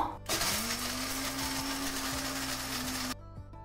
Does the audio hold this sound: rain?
no